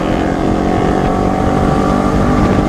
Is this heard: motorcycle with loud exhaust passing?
yes